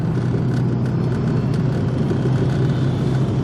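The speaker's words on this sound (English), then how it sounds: "Okay, the turbo's spinning up." An automatic Mazda RX7 FD3S climbs a steep hill with its turbo spinning up, a dense, steady engine rumble heard from inside the car, loud and unbroken.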